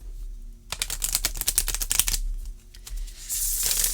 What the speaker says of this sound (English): And those 3 shuffles were very nice.